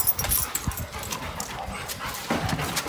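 Two Labrador dogs panting and whimpering close by, with soft yips and shuffling, no talking.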